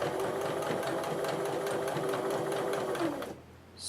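A sewing machine stitches fabric in a steady, rapid rhythmic whir for about three seconds, then slows and stops, leaving brief quiet.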